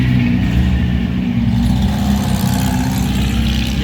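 Several classic Porsche 356 cars at a historic motor tour event at the Pau Arnos circuit produce a loud, continuous low engine rumble with faint revving, close by and with no voices.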